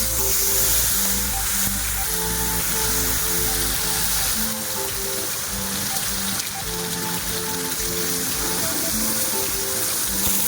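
Cumin and onion paste frying in leftover fish-frying oil for a katla kalia, giving a steady dense sizzle and crackle that runs throughout, loud and close, with no voices.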